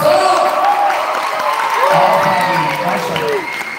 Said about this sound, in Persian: ولی میخوام خوب تشویق کنید